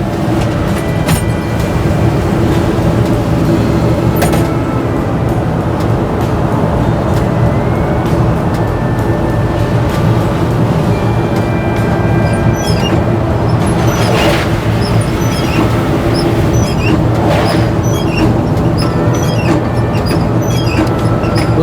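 1964 Chevrolet C10 pickup truck driving after a second-gear start, a loud, steady engine drone and road rumble from inside the cab, with faint rattles and clicks.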